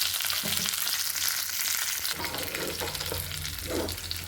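Curry leaves and green chillies fry in hot oil with garlic, giving a continuous close sizzle and crackle that holds steady throughout, with no talk.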